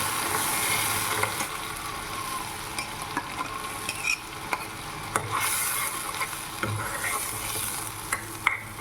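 Tomato puree frying in oil with garlic for dal makhani, a steady bright sizzle throughout with occasional stirring scrapes and taps of a spoon against the pan.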